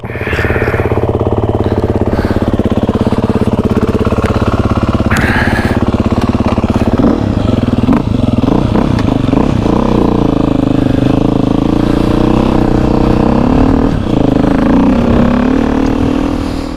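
A Beta 390 dirt bike is push-button started with no choke and idles with a loud, close, rattling single-cylinder thrum, then revs in several rising bursts before settling back.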